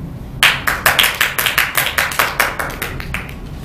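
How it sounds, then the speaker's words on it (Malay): A small group claps at a Malay emcee practice session, sharp close hand claps in a steady, fairly fast rhythm for about three seconds, loud and crisp in a quiet room, with no talk over them. "Beri tepukan."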